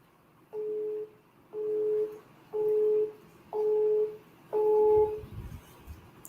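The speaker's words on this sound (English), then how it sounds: "His phone line is busy." A telephone busy signal repeats five times: evenly spaced, steady tone bursts of about half a second each separated by short silences, clear against a quiet background with no speech.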